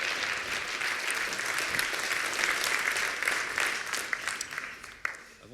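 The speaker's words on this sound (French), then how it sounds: "Je vous demande de l'applaudir, Jonathan Bory." An audience at a launch evening applauds steadily, the clapping holding loud and even before thinning out toward the end.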